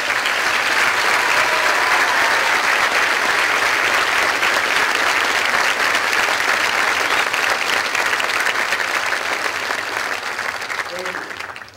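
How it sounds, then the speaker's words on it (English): Audience at a 2011 university undergraduate commencement ceremony applauds; loud, sustained clapping from a large crowd that holds steady before fading slightly at the end. "join me in applause to thank the faculty, staff, family, and friends who nurtured your educational aspirations"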